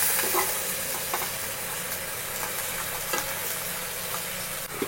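Onions and green chillies sizzle steadily in a pan of hot oil for a prawn and egg curry, a close, continuous crackle with faint stirring scrapes and no talk.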